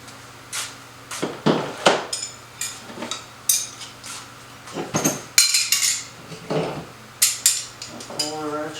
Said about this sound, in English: That goes over here. Our wrenches go over here.